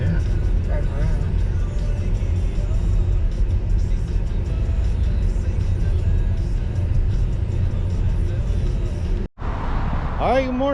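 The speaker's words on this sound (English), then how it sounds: "I guess we could just take a little drive around" Car engine rumble and road noise while driving around near Warner Boulevard in Los Angeles, a steady close low drone with a brief dropout near the end and voices talking over it.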